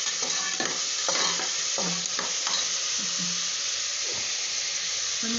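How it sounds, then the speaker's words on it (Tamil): Curry leaves and onion sautéing in a pan for mutton gravy, a steady close sizzle with occasional stirring scrapes and clinks throughout, no voices. "ஸோ இப்போ கருவேப்பிலை கொஞ்சம் போட்டு அப்படியே வதக்க வேண்டியதுதான்."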